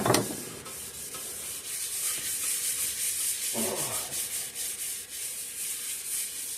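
A rag rubs and wipes spilled dirty WD-40 off a workbench beside a 3hp Briggs and Stratton engine, a steady close scrubbing swish with a few sharper strokes and no talk.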